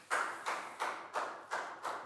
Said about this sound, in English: a big round of applause for Lackow